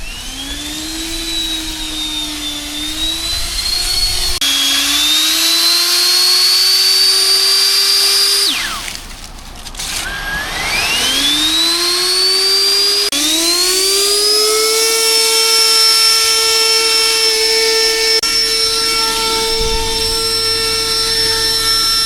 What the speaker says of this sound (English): and blow leaves with a short, powerful blower, a 650 CFM, 150 mile per hour, variable switch